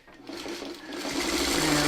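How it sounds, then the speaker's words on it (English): A sewing machine stitches along a marked line on a quilt block for a modified flying geese pattern, a steady close mechanical whir that builds and holds for two seconds with no talking. "So we're going to sew right on the line."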